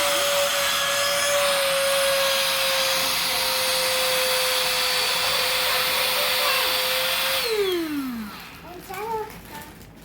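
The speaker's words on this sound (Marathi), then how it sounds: "ती मशीन खाली ठेव आणि दोन्ही हाताने लाव. आता बघ, तशी हवा जाते मग." An electric vacuum pump runs as a steady loud whine, sucking air out of a blanket storage bag. Near the end the motor winds down, falling in pitch, and stops.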